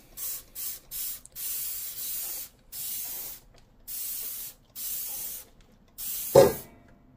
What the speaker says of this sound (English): So let's go ahead and spray this.